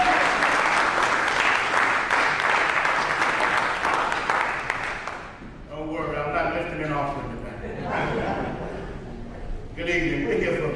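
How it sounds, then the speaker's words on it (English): An audience at a Houston NAACP community town hall claps for a pastor, steady loud applause for several seconds that fades as a speaker begins talking over the last scattered claps. "y'all can clap for the pastor"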